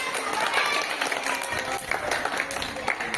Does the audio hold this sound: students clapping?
yes